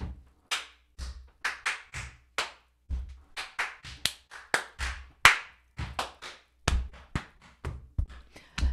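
Hand clapping in a loose rhythm during a drumming session, sharp close claps spaced by short silences, some single and some in quick pairs, each with a brief ring.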